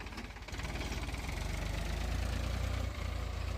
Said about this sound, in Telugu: ఇప్పుడు మనం చూస్తున్న ట్రాక్టర్ వచ్చేసి ఇది పవర్ ట్రాక్ కంపెనీ.